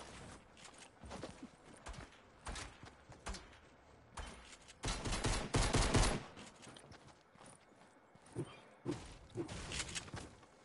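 Video game gunfire rattles in repeated rapid bursts, with a long heavy volley in the middle and more scattered shots after it, loud and close over a steady game soundscape.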